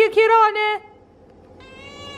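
A cat gives a loud, drawn-out meow up close, followed by a quieter, higher trailing meow after a short pause.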